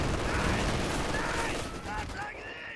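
Machine gun fire from German forces in Company of Heroes 2 crackles in dense, continuous bursts across a busy battlefield soundscape, with other gunfire and a voice mixed in.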